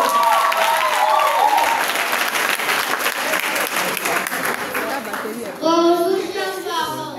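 An audience at a children's church event breaks into loud, sustained applause, with children's voices and chatter mixed in and a voice speaking over the clapping near the end.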